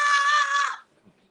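A crowd at a sports broadcast event screams on request in one loud, sustained, high shout that lasts under a second and then cuts off into near silence.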